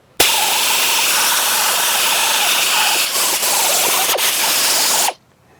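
A die grinder fitted with an aluminum pad grinds inside a wheel hub, starting abruptly into a loud, steady high-pitched whine with a hissing abrasive edge, holding near-constant for about five seconds before cutting off sharply, close up with no talking.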